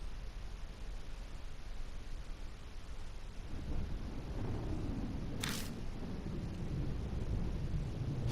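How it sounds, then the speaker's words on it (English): Distant thunder from the video game Death Mark rolls in low and broad after a few seconds, swelling into a steady rumble over wind-like noise, with a brief sharp hiss in the middle. "Thunder rumbles in the distance."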